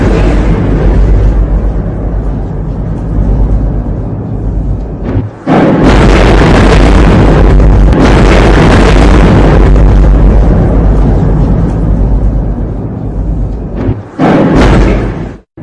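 Explosion from an attack in Jordan: sustained roaring blast noise with heavy low rumble, a brief drop, then a second loud surge of blast and a final burst, very loud and close.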